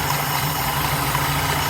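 A 1960 GMC truck engine idles steadily close by, a continuous low rumble with a faint rhythmic pulse and no voices over it.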